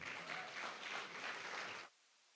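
An audience at Covenant Innovation Week 2023 at Covenant University gives a sustained round of clapping for about two seconds. It stops abruptly and leaves near silence.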